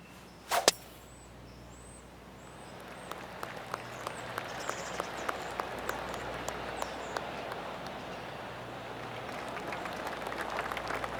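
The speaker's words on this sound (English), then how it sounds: "Oh, I can hear the golf claps around the course." Scattered golf claps from spectators around the course in PGA Tour 2K25, sparse individual claps popping out steadily and softly from a distance over quiet outdoor ambience, after a sharp swing impact at the start.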